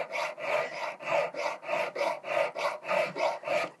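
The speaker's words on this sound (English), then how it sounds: "When you're using a needle file, it doesn't matter if you're using more of a sawing motion." Rhythmic rasping strokes of a small needle file on metal while making a domed locket, about nine even back-and-forth passes, close up with no talking.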